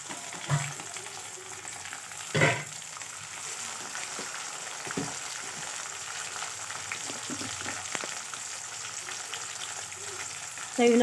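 Tomatoes frying in a pan with mustard seeds, cumin, curry leaves and browned onion make a steady, moderate sizzle, broken by a few soft clunks of a utensil against the pan.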